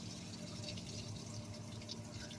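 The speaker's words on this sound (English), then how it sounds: "So to drain your water out, just pull out the inner stem." Water drains steadily from a tractor tire through the valve with its inner stem pulled, a continuous close gurgling and trickling rush without pauses or speech.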